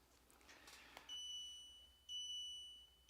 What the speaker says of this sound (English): there's the damn buzzer.